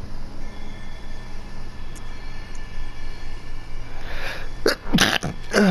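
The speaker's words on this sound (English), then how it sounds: "Excuse me. Another sneeze." A single close, sharp sneeze near the end, preceded by a couple of quick breaths, over a steady low background hum.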